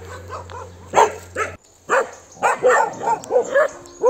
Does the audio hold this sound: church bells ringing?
no